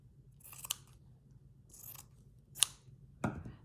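Scissors snip through fabric for a slow-stitch postcard keeper in a few separate, close, crisp cuts spaced across a quiet moment, with no talking.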